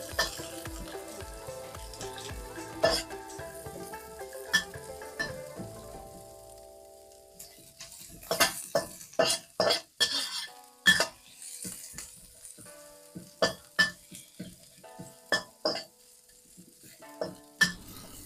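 Onion and spring onion stir-fry in a wok with a soft, steady sizzle, then a utensil scrapes and clanks against the metal in repeated sharp strikes, close and fairly loud, with no talking.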